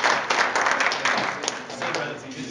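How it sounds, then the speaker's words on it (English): A film crew on set claps for an actor wrapped for the day, a steady patter of hand claps filling the clip with a sustained, mid-level applause texture that swells slightly in places and does not stop. "That's the just got wrapped clap. We all applaud when somebody's done for the day."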